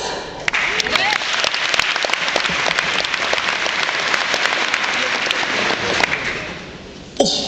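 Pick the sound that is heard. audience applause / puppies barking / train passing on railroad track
audience applause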